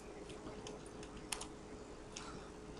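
A computer keyboard used to type code for a flight simulator game: a few scattered soft key taps over a steady background hum, with one sharper click near the middle, and no talking.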